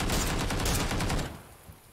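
Rapid automatic gunfire in the video game PUBG, loud and close, a sustained burst of shots for over a second that cuts off and leaves a short fading tail.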